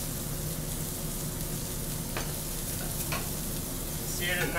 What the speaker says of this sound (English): Starting to smoke, it's okay, because you want that good hard sear on it.